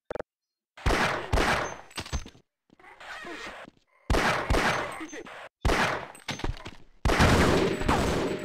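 Gunfire from M16 or M4 rifles in the video game Half-Life, loud rapid volleys in several separate bursts with short silences between them.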